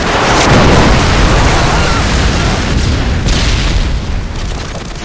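A Predator missile strike from the video game Modern Warfare 2 on the Invasion map lands as a loud, sustained explosive roar, with rumbling debris filling the whole stretch and slowly fading at the end.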